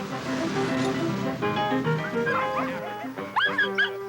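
Sled dogs from a working winter team in Nome, Alaska, bark and yip loudly together at close range, with rapid overlapping calls and a few higher whimpers toward the end.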